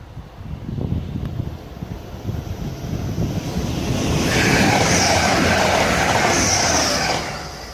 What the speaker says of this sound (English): Oh, and now getting ready to pass by is an Adelante.